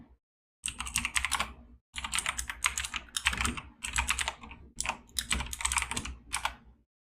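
Rapid keystrokes on a computer keyboard as a command is typed, arriving in several close, quick bursts with short pauses between them, fairly near and clear, with no talking.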